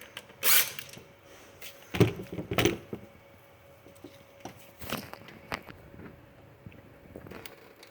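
Tool work removing size 10 and 12 bolts from the intake manifold of a 2005–2009 Hyundai Tucson: scattered close clicks, ratcheting and metallic creaks in short irregular bursts against a quiet background.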